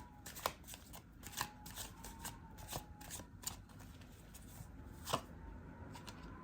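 Tarot cards being shuffled by hand, a run of crisp riffling slaps and soft flutters at an even, unhurried pace, close and fairly quiet with no talk.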